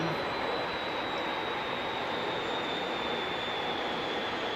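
A MiG jet engine winds down toward idle as the RPM drops, a loud, steady broadband roar with a high whine running throughout, heard close and continuous with no talk.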